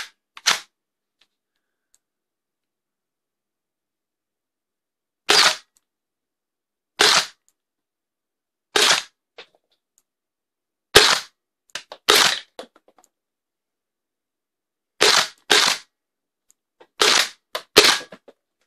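A Hanke MX6 toy blaster firing foam darts, with about a dozen sharp, crisp pops spread unevenly across the span, some singly and some in quick pairs, and near silence in between.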